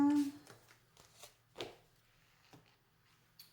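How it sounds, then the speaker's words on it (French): Oracle cards being shuffled by hand in a few short, soft riffling bursts spread across the moment, with a voice speaking alongside. "les cartes, en se mélangeant, elles peuvent changer"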